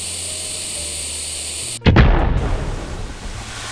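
A propane tank explodes in the video game Fireworks Mania, one sudden loud blast cutting through a steady background hiss and then rumbling away over the next couple of seconds.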